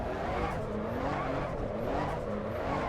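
A race car in the Assetto Corsa EVO racing game drifts with its rear swinging wide, giving a continuous engine drone under long, wavering tire squeals that stay loud and steady throughout.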